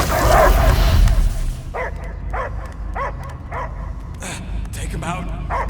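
A dog barks in a run of sharp, evenly spaced yips and woofs inside the Guardians of the Galaxy video game, coming after a louder burst of rumbling game noise.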